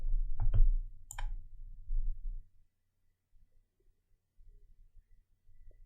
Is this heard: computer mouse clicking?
yes